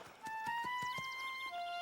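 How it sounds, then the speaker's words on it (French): Cartoon horse hooves clip-clop in a steady, evenly spaced series of sharp knocks, close and clear over a sustained musical tone with a light melodic line on top. "Il est vraiment grand, ce cheval, papa."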